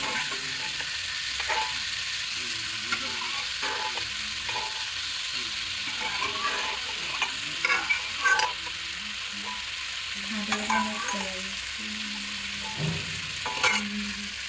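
Colorful winter vegetables with spices fry in a pan while being stirred, a steady moderate sizzle broken by irregular scraping and clinking strokes of the spoon across the whole stretch.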